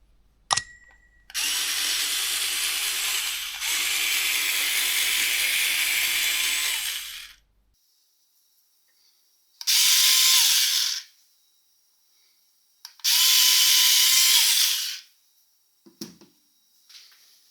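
A Parkside PMSA 4 A1 cordless 4V multi-cutter cuts through t-shirt fabric in three bursts, a long steady buzzing run followed by two shorter ones, loud and close with silent gaps between.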